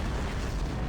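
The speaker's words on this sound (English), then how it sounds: "That was quite an explosion." A dense, roaring explosion in the space combat game Star Trek Online, a sustained loud rumbling blast filling the whole second with no talk.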